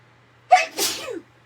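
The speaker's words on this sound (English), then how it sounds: "And I'm going to sneeze." A single close, sharp sneeze, a quick intake followed by a burst of breath, alone in a quiet room.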